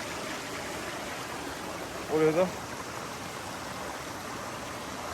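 A forest stream and waterfall at Zindandere in Demirköy, Kırklareli, give a soft, steady rush of flowing water throughout, broken briefly by a short spoken phrase.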